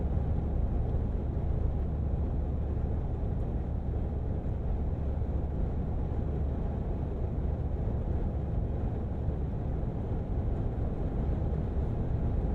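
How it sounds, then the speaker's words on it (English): Cabin of a 2022 Mercedes-AMG G63 cruising at highway speed on all-terrain tires, a steady broadband roar of wind and tire noise, constant and unbroken. "There is a lot of wind noise,"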